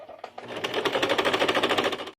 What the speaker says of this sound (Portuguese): E vou passar a costura aqui, ó, unindo viés e zíper ao filó